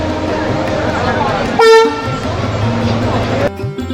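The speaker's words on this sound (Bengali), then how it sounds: "আমরা এখন বলাগড় স্টেশন ঢুকেছে আমাদের ট্রেন" A train horn sounds one loud, sustained blast as a train pulls into Balagarh station, with steady rumbling carriage and track noise before and after it.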